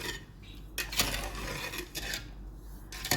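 A spoon scrapes and clinks against a pot while sugar syrup is stirred, a steady rasping rub broken by a few sharper metallic knocks, close and fairly loud with no talking.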